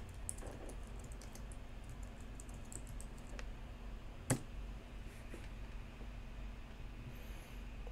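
Someone types a search into a Windows 10 search bar on a computer keyboard, giving a quick run of light, soft key clicks early on and then one sharper tap. The clicks are faint against a steady background hiss, with no voice.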